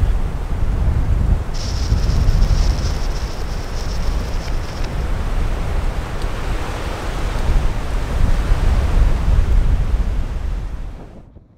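Strong wind buffets and roars steadily beside a canal in the Llangollen area, a dense broadband rush that fills the whole stretch with gusty swells and no voices.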